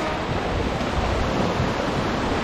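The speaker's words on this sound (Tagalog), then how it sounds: "Ito ang dagat." Sea waves wash onto a rocky shore in a steady, loud roar of surf mixed with wind buffeting the microphone, with no voices.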